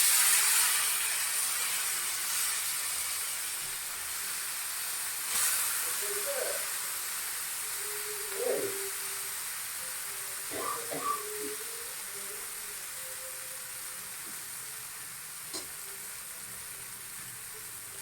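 Vanjaram fish steadily frying in a pan, a soft continuous hiss and sizzle with a few faint clinks and taps over about eighteen seconds, fairly quiet throughout.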